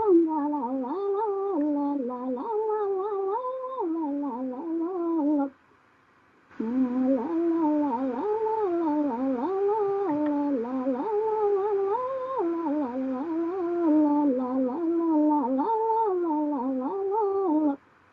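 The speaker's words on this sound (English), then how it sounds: "but this is the sound of a yoik" A recorded Sámi yoik: one voice sings a gliding, wavering melody in close, clear tones, breaking off for about a second midway before carrying on to the end.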